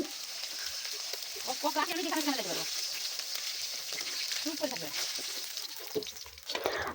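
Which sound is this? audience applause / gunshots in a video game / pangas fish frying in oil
pangas fish frying in oil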